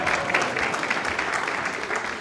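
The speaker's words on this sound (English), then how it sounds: "give yourself a round of applause" A short burst of clapping from a small group, steady and fairly loud, with no voices over it.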